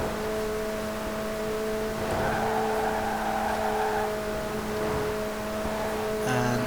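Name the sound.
2018 McLaren 720S Coupé driving in Forza Horizon 4, video game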